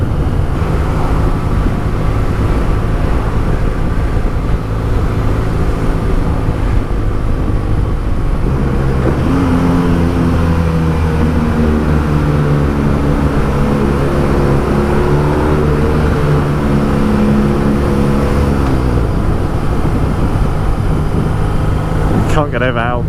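A motorcycle with its stock exhaust drones steadily for the whole stretch, loud and continuous, with wind rush. A voice talks over the engine partway through.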